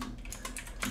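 Rapid keystrokes on a computer keyboard while writing a Roblox Studio script, a dense run of close, clicky taps over a low steady hum, with no voices.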